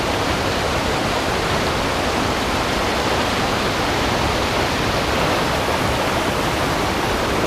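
Upstream river in the Dolly Sods wilderness in winter, rushing water roaring steadily and loudly at close range, dense and unbroken throughout, with no voices.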